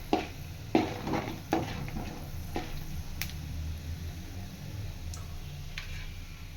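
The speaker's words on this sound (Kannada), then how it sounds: "ಇದು ಸ್ವಲ್ಪ ಫ್ರೈ ಆಗಲಿ." Peanuts and chana dal fry in hot oil for a rice dish, a soft steady sizzle with several sharp spatula knocks and scrapes against the pan early on, then quieter frying.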